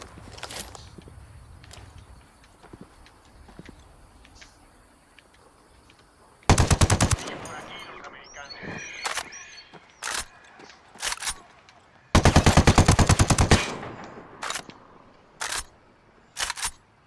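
Automatic gunfire in the video game Ghost Recon Wildlands, with two long, loud bursts of rapid shots and several shorter single bursts between and after them, over faint background game sounds.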